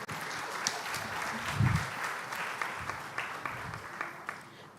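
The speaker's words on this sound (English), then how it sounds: "I hope all of you will agree with a round of applause for all the judges." Audience at a health research excellence summit giving a round of applause for the judges, a steady hall-wide patter of clapping with a few louder nearby claps and a soft thump.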